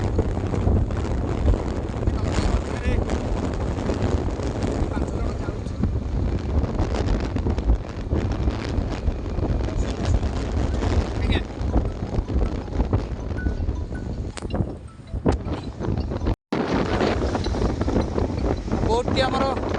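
A motor boat's engine runs steadily on a river in Odisha while people prepare to cross to a village school, a low continuous drone mixed with wind buffeting the microphone, broken only by a brief cutout near the end.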